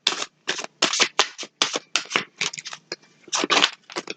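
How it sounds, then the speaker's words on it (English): Tarot cards are pulled and shuffled from a deck in a rapid series of crisp, papery swishes and slides, loud and close, with brief gaps between strokes and no talking. "I'm going to pull a couple of clarifying cards"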